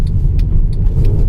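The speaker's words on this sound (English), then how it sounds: "No, it doesn't want to accelerate." A 2012 Mercedes-Benz W204 C63 AMG with a transmission fault struggles to accelerate, its loud low engine rumble droning steadily from inside the car.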